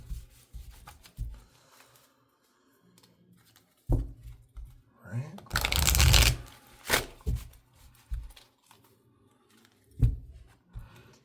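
Tarot cards being shuffled close up, with riffling and rubbing bursts, one louder flurry in the middle, among soft handling sounds.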